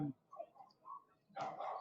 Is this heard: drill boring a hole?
no